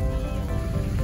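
Steady rain falling in Bandung, a continuous dense hiss of drops with a low rumble, at an even level throughout with no talk.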